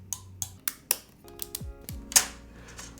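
Keys clack one at a time on a custom mechanical keyboard, a few sharp separate strokes at an uneven pace, close and crisp against a quiet background, with no talking.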